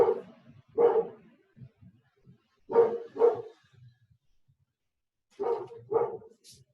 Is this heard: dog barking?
yes